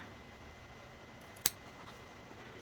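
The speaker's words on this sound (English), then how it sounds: "a little pair of scissors and give it a quick trim on each side" A small pair of scissors gives one quick, crisp snip while trimming the fabric edge of a quilt block, close by against a quiet background hiss.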